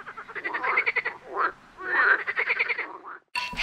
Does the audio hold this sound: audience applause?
no